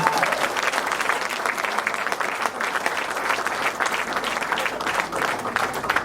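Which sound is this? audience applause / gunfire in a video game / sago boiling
audience applause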